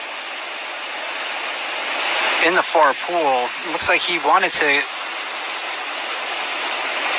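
Steady rushing roar of a river waterfall fills the scene, close and constant, while someone narrates over it.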